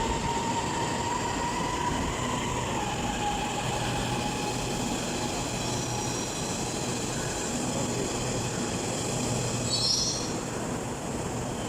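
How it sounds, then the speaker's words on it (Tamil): A train pulls into Bandaraya station in Kuala Lumpur, a steady close rumble of wheels and carriages with faint squealing tones, alone with no talk. "ட்ரெயின் வருது."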